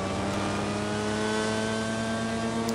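A racing kart engine drones at steady high revs, a constant buzzing whine with little change in pitch, close and continuous.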